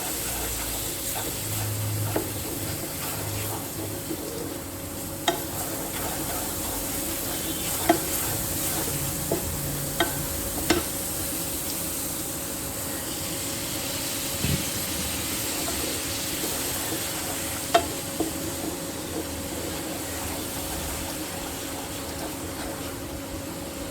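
Stir-frying with salt and turmeric in a pan for lau diye biulir dal, a steady close sizzle throughout with occasional sharp clicks and scrapes of a spoon against the pan, no talking.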